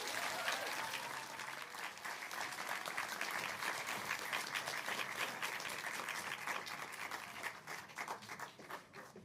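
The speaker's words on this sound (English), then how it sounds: "give them a big round of applause" An audience at a children's book awards ceremony in Dublin applauds students, dense sustained clapping from a large crowd that holds steady for several seconds before starting to thin out.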